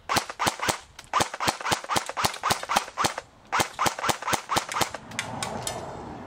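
A DE M89 UMP airsoft gun fires at a pan target, giving rapid sharp cracks in fast strings with brief pauses between them. Each shot is loud and close, and a softer winding rattle follows at the end.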